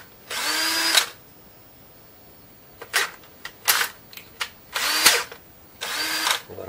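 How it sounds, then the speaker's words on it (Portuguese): An electric drill whirs while making a tool handle, in several bursts, one long run, then short rapid pulses and a few longer spins, close and fairly loud. "Pegar a furadeira."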